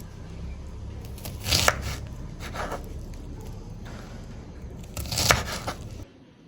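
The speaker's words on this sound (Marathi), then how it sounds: "आता आपण ही भेंडी अशी गोल चिरून घेतली आहे" Knife chopping okra into round slices on a board, two loud clusters of quick cuts with softer scattered taps between, close and alone.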